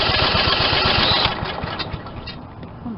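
A lawn mower engine turned over by hand during a compression test, rapid rhythmic chugging pulses close by that fade out after about a second and a half.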